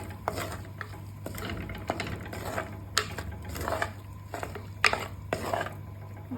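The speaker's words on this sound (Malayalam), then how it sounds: "നന്നായിട്ട് മിക്സ് ചെയ്ത് കൊടുക്കാം" A spoon stirs fish curry with tamarind water and curry leaves in a pan, giving irregular close scraping and clinking strokes over a steady low hum.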